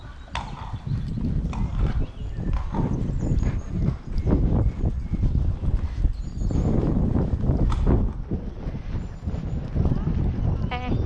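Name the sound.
pony hooves during a dressage lesson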